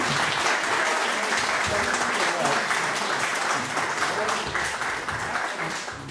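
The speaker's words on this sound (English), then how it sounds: "why don't we all give her a round of applause for being such a great student" A room full of people at a Rotary Club meeting applauds a student with dense, steady clapping that holds strong for about six seconds, easing slightly toward the end, with some voices mixed in.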